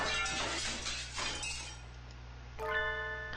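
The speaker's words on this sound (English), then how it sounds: "Some glass object splinters with a monumental crash behind us as we make for the exit." A glass object splinters with a crash in the game Hatoful Boyfriend, a burst of tinkling shards scattering over a couple of seconds, followed by a bright ringing chime, over faint background music.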